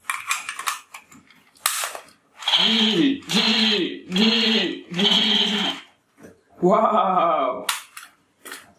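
An ACP Bulldog toy revolver with lights and music plays loud electronic firing effects in four quick repeated bursts, then a longer burst after a short pause. Mechanical clicks come before and after, and a voice briefly exclaims.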